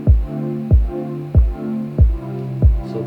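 Electronic kick drums in a music production, two layered kicks pumping together: five deep, punchy thumps in a steady pulse, each with a short booming tail and a roomy reverb, with no voices.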